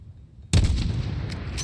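A single rifle shot fired at long range in Call of Duty, a sharp loud crack followed by a rolling, booming echo that lingers to the end, with no talk.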